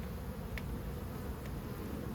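Honey bees droning during a swarm cutout from an owl house, a low steady buzz with a couple of brief sharp clicks, no voices.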